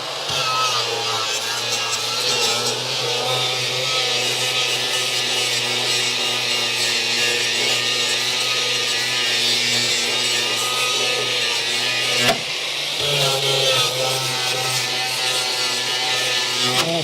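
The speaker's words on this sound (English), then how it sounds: "flap disc is definitely doing some work" A flap disc on an angle grinder grinds rust off a car body, a loud, steady abrasive whine running continuously with one brief dip partway through.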